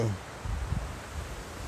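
Strong wind blows on a beach at The Deva resort on Koh Chang, a steady low rumbling buffet with a few stronger gusts, close and fairly loud, with no voices.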